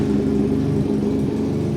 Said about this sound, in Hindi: अब हम इसकी 400 सीसी डुअल सिलेंडर इंजन की power combined with SC project सुनते हैं कि साउंड कैसी प्रोड्यूस करेगा ये